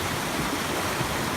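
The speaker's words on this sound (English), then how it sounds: "a gorge here, small gorge with creek and water flowing." Creek water flows through a small gorge on the Inca Trail in Peru, a steady, close rushing wash with no voices.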